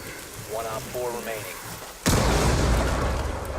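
A trap goes off with a sudden loud explosive blast in the shooter game Rainbow Six Siege, landing midway after a stretch of talk and leaving a long noisy roar that fills the rest of the moment.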